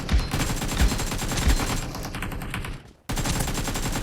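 Rapid automatic gunfire in the mobile battle royale game BGMI, played on a Poco X6 5G, rattles loudly and nearly continuously, with a brief drop-out near the end before the burst resumes.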